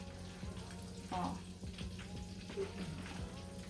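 Breaded eggplant stuffed Filipino cordon bleu style frying in a pan, a steady soft sizzle with small crackles and pops, fairly faint and continuous throughout.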